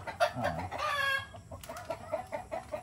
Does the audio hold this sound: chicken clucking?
yes